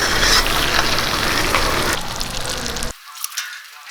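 Chicken pieces frying in hot oil give a loud, dense sizzle that drops abruptly near the end as the chicken is lifted out, leaving a faint crackle.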